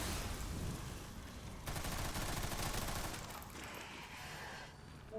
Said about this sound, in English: immediately shoot at this canister, and then shoot at the other one